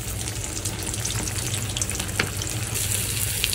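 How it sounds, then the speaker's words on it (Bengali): Ground spices with ginger, garlic, turmeric and chilli powder frying in a pan, a loud, dense close-up sizzle with stirring scrapes throughout, no voices. "এইখানে দেখতে পাচ্ছেন মশলা কষাই নিচ্ছি, আদা রসুন দিচ্ছি"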